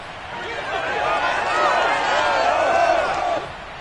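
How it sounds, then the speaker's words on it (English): A large stadium crowd in the Madden football video game roars and cheers during a two-point conversion attempt, swelling then fading over a few seconds, with a commentator voice underneath. "Listen to this crowd now"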